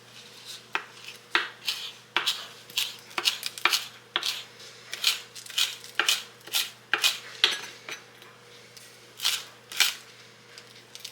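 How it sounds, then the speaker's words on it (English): A knife chops green onion rapidly on a cutting board in quick, uneven bursts of sharp taps, close and clear with no talking. "I'm going to get this started by chopping my green onion up"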